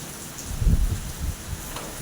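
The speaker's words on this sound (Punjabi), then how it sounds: "ਹੁਣ ਖਰਾ ਤੇਜ਼ ਹੋ ਗਿਆ ਥੋੜਾ ਮੀਂਹ ਜ਼ਿਆਦਾ ਹੋ ਗਿਆ" Heavy rain pours steadily at night in a rural village, forming a constant wash of noise with a few low thuds and rumbles rising partway through.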